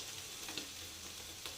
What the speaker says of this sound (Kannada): 1 ಸ್ಪೂನ್ ತೊಗೊಂಡು ಇದನ್ನ ತಿರುಗಿಸ್ತಾ ಇರ್ಬೇಕು ಅವಾಗವಾಗ, ರೋಸ್ಟ್ ಆಗೋವರೆಗೂ